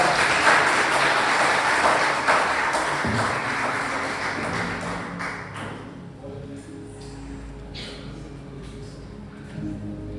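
A church congregation gives sustained applause after a sermon. The dense clapping holds for about five seconds, then fades to a quieter room with faint voices and a few stray sounds.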